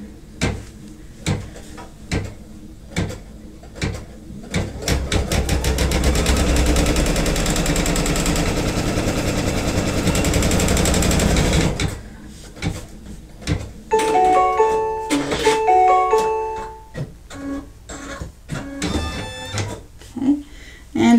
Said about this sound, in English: Now it's going to do the tack down on the outside of this piece.